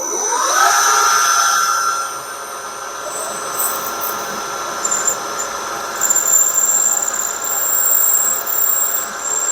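Drill boring a hole in a metal slide valve drive block at a set depth stop, a high whining squeal over a steady motor hum that runs continuously, close and fairly loud, easing off and returning near the end.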